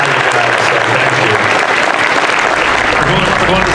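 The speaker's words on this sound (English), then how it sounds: "give yourselves a round of applause for supporting good horror movies" A crowd at a horror convention panel claps loudly and continuously, a dense wall of applause close by with voices mixed into it.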